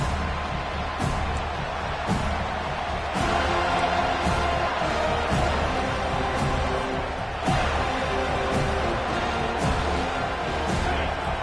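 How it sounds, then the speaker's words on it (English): A college football stadium crowd roars after the opening kickoff, a loud, dense wall of cheering that swells and dips in waves throughout. "This crowd trying to show them what it's going to be like all day in this house."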